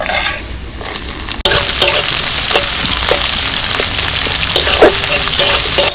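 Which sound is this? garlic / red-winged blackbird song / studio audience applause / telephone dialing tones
garlic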